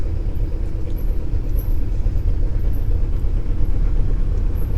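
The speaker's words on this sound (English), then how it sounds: "So I'm mostly leaving it in second gear to make these turns." A car engine holding steady in second gear on sharp, steep mountain switchbacks on the road to Mount Nebo, a dense continuous low rumble with road noise, close and unbroken throughout.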